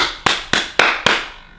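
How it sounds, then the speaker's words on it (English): Four sharp hand claps in a steady, evenly spaced rhythm, loud and close, each with a short ringing decay. "every time you clap your hands,"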